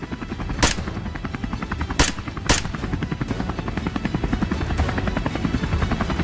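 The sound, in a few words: helicopter circling overhead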